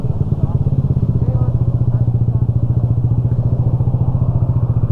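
A Yamaha NMAX 155 scooter engine chugs loudly close by in a fast, even putter among many motorcycles, with a faint murmur of voices underneath.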